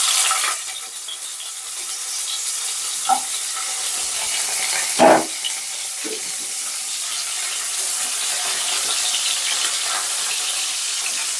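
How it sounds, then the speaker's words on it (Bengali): Bitter gourd pieces fry in hot oil in a pan for Bengali shukto, giving a steady, close sizzle throughout with a few brief clinks from stirring. "এরপর আমি উচ্ছেগুলো ভেজে নেব।"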